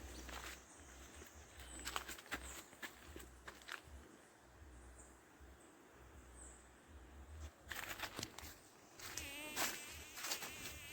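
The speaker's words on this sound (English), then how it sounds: "there's a lot of mosquitoes. A lot of mosquitoes everywhere." Mosquitoes buzz in a Jamaican forest in the evening, a faint, thin whine drifting close and away, with light rustling and occasional footsteps beneath it.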